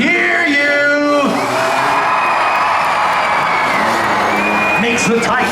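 A grandstand crowd cheers for a truck driver at a county fair tuff truck event, sustained whoops and yells filling the air while an announcer talks loudly over the top.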